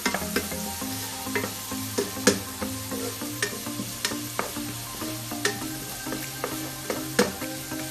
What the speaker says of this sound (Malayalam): പിന്നെ ചില്ലി പേസ്റ്റ്, റെഡിഷ് കളറിലാവുന്ന വരെ ഒന്ന് ഇറക്കിക്കൊള്ളു